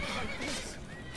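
A horse neighs in Skyrim, a rising and falling whinny lasting about a second at moderate loudness, with faint hoof sounds under it and no talking.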